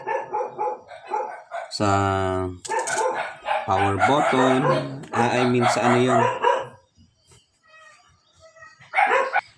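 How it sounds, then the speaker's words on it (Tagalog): A dog barks nearby in a Filipino home, a burst of loud barks and yelps mixed with crowing-like calls, partly overlapping someone talking close up. "Yan, medyo may ingay yung aso."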